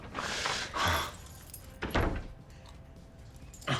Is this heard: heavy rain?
no